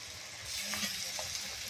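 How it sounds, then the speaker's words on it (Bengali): Garlic frying with onions and bay leaf in a pan, a soft continuous sizzle with faint crackles and small pops, fairly quiet throughout. "রসুনটা ভালো করে পেঁয়াজের সাথে ভালো করে ভেজে নিতে হবে।"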